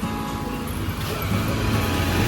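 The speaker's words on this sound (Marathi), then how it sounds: "तेव्हा गाडी आली बघ जोरात" A car speeds past loudly and close by on a road near a temple, its engine and tyre roar rising steadily through the short stretch with no talk over it.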